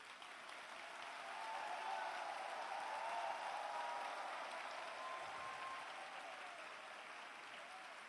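A church congregation claps for Jesus, a soft, sustained patter of many hands that swells slightly and then eases, heard at a distance with no speech over it.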